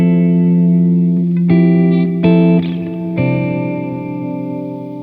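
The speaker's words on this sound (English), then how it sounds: "one of the finest sounding and coolest digital reverb pedals ever" Sustained electric guitar chords ring through a Pigtronix Cosmosis digital reverb pedal, with a few struck changes swelling into a long, lush reverberant tail that slowly fades; loud and alone.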